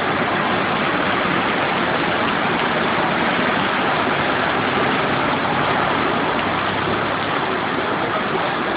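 Floodwater rushes through a street in Bangu, Rio de Janeiro, during heavy rain, a loud, steady, dense roar of water with engine-like low rumble that stays constant from start to finish.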